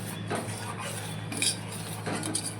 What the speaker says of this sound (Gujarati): આવી રીતે હલાવતું જવાનું, એટલે ગટ્ટા હોય ભાગી જશે.